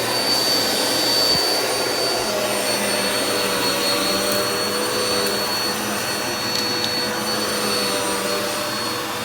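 A Black and Decker Air Swivel vacuum cleaner runs close by with a steady, loud motor whine and airflow hiss, unbroken for the whole stretch with no talking.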